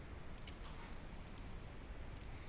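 A few quiet, sharp computer mouse clicks, including a quick double-click, made while editing in Photoshop, sitting over a low steady background hum with no talking.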